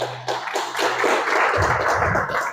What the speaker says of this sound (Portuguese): Vamos ficar de pé, aplauda a Jesus bem forte que Ele merece.